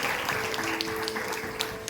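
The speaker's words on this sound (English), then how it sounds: "Everybody, please clap for her." An audience at a school's annual general body meeting claps for an office staff member, faint scattered claps over a low steady hum.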